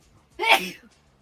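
A single sharp sneeze, close and fairly loud, then quiet.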